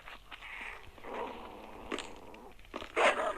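Dogs in the video game Survivalcraft 2 growl and snarl in short bursts during an attack, with brief bites and scuffles.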